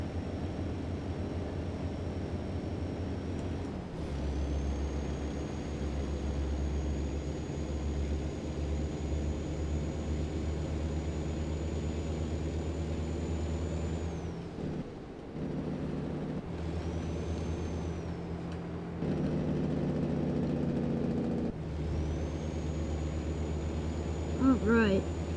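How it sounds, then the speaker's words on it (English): A heavy truck in American Truck Simulator drones with a steady low engine hum while driving, broken by several sharp air-brake hisses, with some talking over it. "I'll stop talking so you guys can hear the truck."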